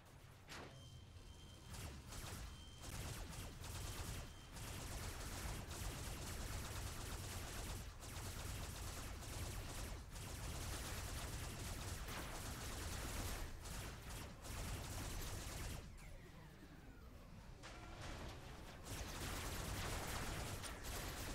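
SMG fire from a tank in Robocraft, a long, dense stream of rapid shots with brief pauses and whooshing movement around it, steady and fairly close.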